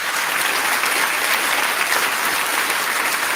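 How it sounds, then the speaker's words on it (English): An audience applauds in a short, steady burst of dense clapping, loud and close throughout. "give him an applause."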